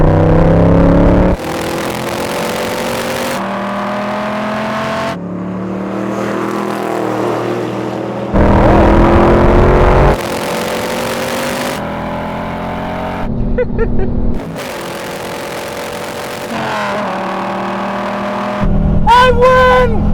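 Cobra, Viper and Mustang roar through a rolling drag race from 50 mph in third gear, loud engines surging and rising in pitch through repeated gear changes and shifting camera positions, with brief whoosh-like passes near the end.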